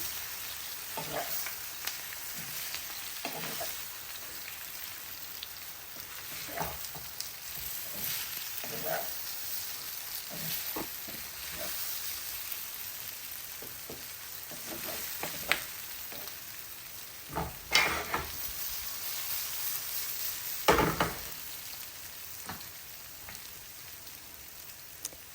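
Steamed khaman dropped into a hot tempering with sesame seeds, giving a soft continuous sizzle and crackle with occasional stirring thumps and scrapes against the pan, quiet and close.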